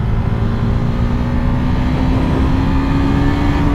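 A 2021 KTM Duke 390 motorcycle engine revs hard at high revs on a test ride, a loud, close, continuous drone whose pitch creeps slightly upward, with no talking.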